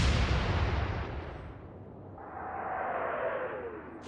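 Battleship main guns fire in the naval game Atlantic Fleet, one heavy, booming salvo that opens loud and then rolls away into a long, fading rumble with a trailing whoosh.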